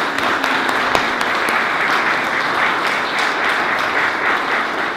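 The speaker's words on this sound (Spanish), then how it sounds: "Quiero darle un fuerte aplauso a Alex hoy día, esta noche, por favor." An audience at a book launch gives loud, sustained applause, a thick and steady wash of many hands clapping that barely varies over five seconds.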